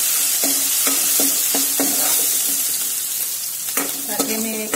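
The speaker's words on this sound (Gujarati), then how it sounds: "તેને આપણે 30 સેકન્ડ માટે સાંતળી લઈશું." Ginger, garlic and chili paste sautés in hot oil, giving a steady close sizzle broken by a regular series of spoon or spatula scrapes against the pan.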